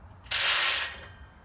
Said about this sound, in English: you have 3 ratcheting straps. You hook all 3 of these up to the mobility device for safety travels